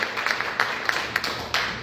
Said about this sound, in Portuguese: Vamos aplaudir Deus, vamos aplaudir.